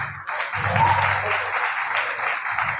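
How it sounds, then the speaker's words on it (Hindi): A short, dense burst of audience applause with many hands clapping at once, loud and close, fading slightly toward the end. "जोरदार तालियां बजाइए।"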